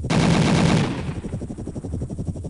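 Helicopter gunship cannon fire in the video game Gunship! during a training mission, a loud rapid burst of automatic shots that fades into a trailing rattle of repeated reports.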